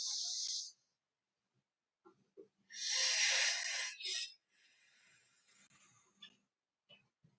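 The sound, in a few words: person breathing in deeply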